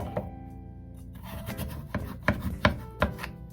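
Radish is cut into wide flat pieces on a cutting board for pollack soup, several distinct knife thuds in an uneven rhythm, close and clear, with soft rubbing sounds between strokes.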